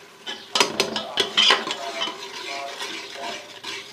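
Chicken with chilli flakes and spices being stirred and fried in a pan for chicken salan, with close, clattering spoon strokes against the pan over a steady sizzle, loud at first and then settling.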